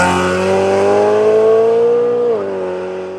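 A V8-swapped BMW 1M cruises with a steady, loud engine drone that holds its pitch and then dips as the revs drop near the end, with no voices.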